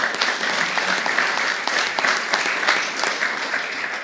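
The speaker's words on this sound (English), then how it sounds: "That applause is for all of you," Audience applause fills a hall during a county executive's 2025 budget address, a steady, dense patter of many hands clapping close and loud for the full four seconds.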